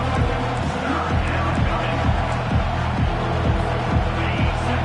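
A college football stadium crowd at a USC versus Texas A&M game roars steadily as the home defense works in the red zone, with a dense, continuous wash of noise and rhythmic low thumps pulsing through it.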